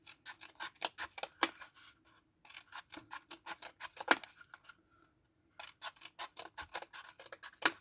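Scissors snip through paper towel in quick rhythmic runs of sharp, close clicks, pausing twice briefly before resuming the steady cutting pattern.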